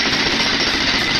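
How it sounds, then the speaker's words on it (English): Loud, continuous jackhammer pounding away as a stock example of the tool, a dense rattling roar that stays constant and close throughout. "You'd think a jackhammer would sound like this,"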